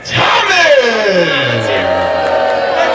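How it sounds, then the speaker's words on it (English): A crowd at an independent pro wrestling show roars loudly right after a challenger is introduced, a dense sustained wall of shouting and cheering with a few rising and falling voices standing out throughout. "See, that's a crowd reaction!"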